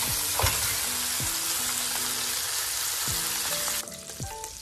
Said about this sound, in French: je vais rajouter les poires aussi, que je vais faire dorer de chaque côté